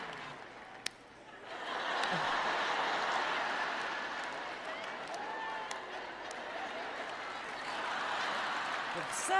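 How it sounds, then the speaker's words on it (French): Scattered applause from a congregation at a French-language sermon, rising after a brief pause and holding as a moderate, roomy wash of clapping with faint crowd murmur beneath. "L'applaudissement tarde à venir."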